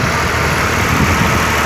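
A tractor pulling a rotavator works over village farmland, giving a loud, steady engine drone with churning low rumble that holds constant throughout, with no talk.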